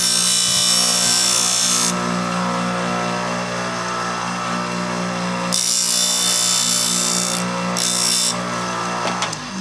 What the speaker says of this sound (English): my ears are going in briefly while I sand those miters